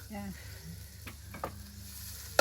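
Garlic, shallots and coriander root hit a hot wok, giving a faint, brief sizzle with a few sharp scrapes and clicks against a quiet background.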